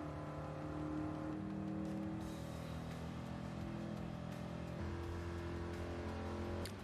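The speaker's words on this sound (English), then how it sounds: "Just look how great all these C3s look hauling around the track together." Several C3 Corvettes race around a track in a GT video game, their engines droning and revving together in a continuous layered roar with shifting pitch as cars change gear and pass, steady and fairly distant.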